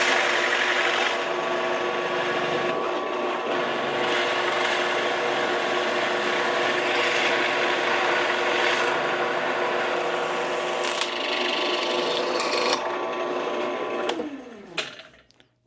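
A WEN variable speed benchtop drill press at 740 RPM bores into birch cabinet-grade plywood with a steady whirring motor hum and gritty cutting rasp, close and continuous before the motor spins down at the end.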